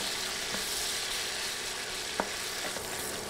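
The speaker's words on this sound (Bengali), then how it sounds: "নেড়ে নেড়ে পেঁয়াজ নরম হয়ে আসা পর্যন্ত ভাজবো" Two medium onions fry in oil in a pan, a constant soft sizzle broken by a few scraping clicks of a stirring utensil, close up and without speech.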